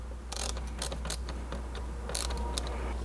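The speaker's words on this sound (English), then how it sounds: "take a flathead screwdriver, and you're just going to open up this Jubilee clamp over here" Flathead screwdriver loosening a Jubilee hose clamp on the airbox of a 2017 Mercedes C300, giving a few light metallic ratcheting clicks and scrapes close by over a low steady hum.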